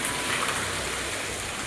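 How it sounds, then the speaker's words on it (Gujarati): Steady, dense rain falls without a break, a continuous wash of patter that fills the whole moment with no voices over it. "મામા બેન છે ને અત્યારે વરસાદ ચાલુ છે ને"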